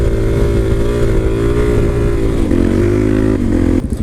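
Motorcycle revving hard during a wheelie, a loud steady engine roar heard up close that climbs slightly in pitch before cutting off abruptly at the end.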